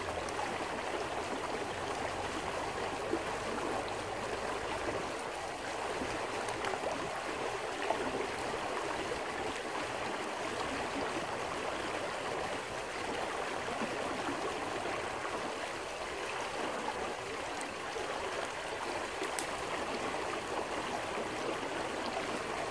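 Bojovsky creek flowing on a winter day, a steady broad rushing and gurgling of water that continues unbroken throughout, close and fairly loud.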